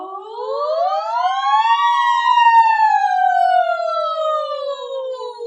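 A human voice imitates a siren in a vocal warmup, one sustained clear tone gliding smoothly upward and then drifting slowly back down over several seconds, alone and close.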